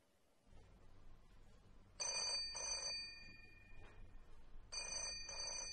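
An old-style telephone bell rings in bright double bursts, two rings, a pause, then two more, fairly close in a quiet room with a faint low hum underneath.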